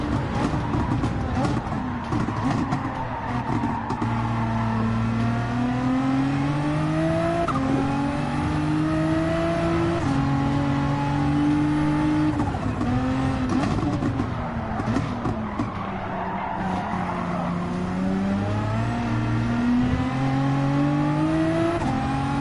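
Race car engine in the Gran Turismo 7 racing game, revving loud and continuous with rising and falling pitch through gear changes while heading into the first turn, with a voice talking over it.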